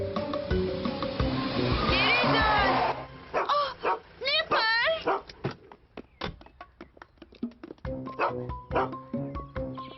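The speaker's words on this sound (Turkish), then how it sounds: "Bir köpeğin olduğunu bilmiyordum." A dog barks and yips several times in short bursts, mixed with whines, close by, alongside people talking.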